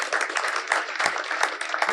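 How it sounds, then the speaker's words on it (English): An audience at a keynote talk gives a short round of applause, a dense and steady patter of clapping from many hands in a hall, with no voices over it. "So I think just a quick round of applause for Mike on that."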